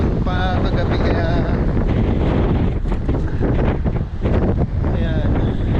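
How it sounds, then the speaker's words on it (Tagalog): A strong, cold wind by the sea buffets the microphone with loud, continuous roaring gusts, and faint voice-like tones drift through the rush. "Gawa ng malakas na hangin."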